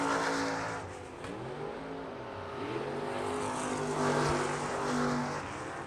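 ASCS Elite non-wing sprint cars race past the start-finish stand at South Texas Race Ranch, a continuous loud roar of several engines with rising and falling pitch as cars sweep by, sustained and close.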